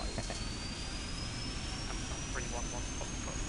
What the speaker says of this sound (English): Here comes engine 2, and now engine 1.